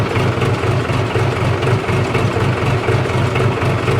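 A Case 550G bulldozer's Cummins 4BT diesel engine idles up close, a loud, steady low rumble with an even rhythmic chug throughout.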